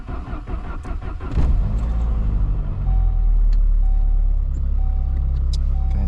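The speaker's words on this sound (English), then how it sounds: "Hopefully the car starts up." A car with a repaired throttle position sensor cranks with a rapid stuttering whir, fires up and settles into a loud, steady idle close by after sitting unused for a while.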